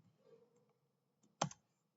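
A few quiet keystrokes on a computer keyboard, then a sharper double click of keys close by, in an otherwise near-silent room.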